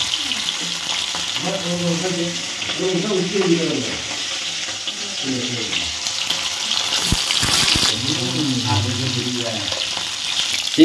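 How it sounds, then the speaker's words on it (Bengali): Shrimp fry in a covered pan during village cooking, making a steady crackling sizzle with scraping stirs, while a voice talks over it at times. "চিংড়ি মাছ কিন্তু ঢাকা দিয়ে ভাজতে হবে বন্ধুরা"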